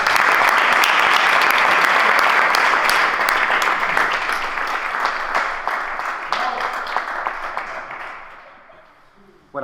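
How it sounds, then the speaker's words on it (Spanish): An audience applauds a speaker being introduced at a talk about indie music. Loud, dense clapping from the crowd tapers off over about nine seconds to near silence. "Un aplauso para él, por favor."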